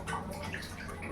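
Water splashing softly as something is washed by hand by someone squatting low, a quiet continuous wash of running and sloshing water with no talking.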